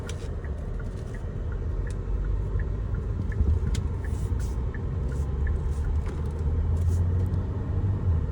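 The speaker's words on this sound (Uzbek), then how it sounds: "Mana mashinamizni haydab ko'ryapmiz, holati zo'r," A Kia Sorento on a test drive gives a steady low engine and road rumble throughout, loud and continuous, with faint higher rattles over the top and no voices.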